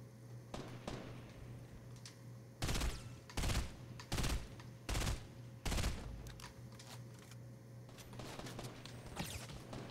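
Gunfire in the video game Fortnite during a duo match, several loud rapid bursts clustered in the middle of the clip with lighter scattered shots around them, close and sharp.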